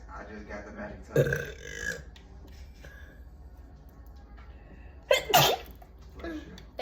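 Two sharp sneezes burst out about four seconds apart, close and loud against quiet background noise, with a person speaking softly between them during gaming.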